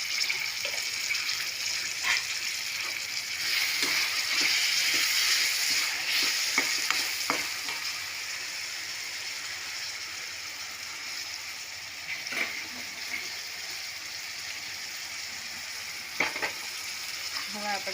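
Vegetables and peas frying in a pan for vegetable pulao, a continuous crackling sizzle with occasional scraping and clinking stirs, close and fairly loud throughout.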